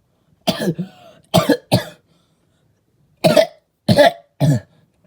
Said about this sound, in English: Naruto would then grab his mouth as he would start to cough.